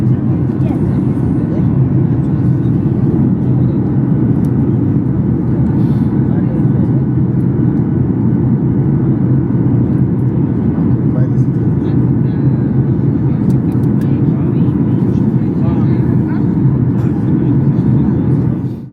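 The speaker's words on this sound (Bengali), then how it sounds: "এখন বিমানটি ল্যান্ডিং করতে যাচ্ছে বোকারেস্ট এয়ারপোর্টে" Steady loud airplane engine drone fills the whole stretch, a constant low roar inside the cabin during descent to Bucharest airport, with no clear talking.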